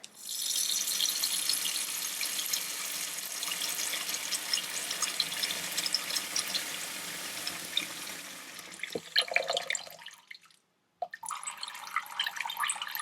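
A tap runs a small, steady stream of water over pork ribs in a sink, a continuous close hiss and patter that shifts and briefly stops near the end, with no talking.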